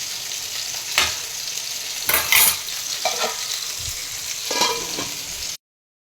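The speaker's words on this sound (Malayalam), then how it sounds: "മീനിൻ്റെ ചാറ് തിളച്ച് വന്നിട്ടുണ്ട്." Fish curry gravy bubbles in a pan, a continuous close sizzle broken by a few louder stirring clatters and scrapes, alone without speech, cutting off abruptly near the end.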